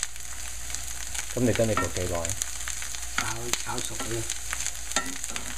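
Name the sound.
frying Chinese bacon and dried shrimp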